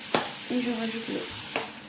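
Water poured into a pot of apple and banana compote with vanilla: a brief gurgling pour over a soft background sizzle, with a couple of light clicks before and after, heard close and on its own.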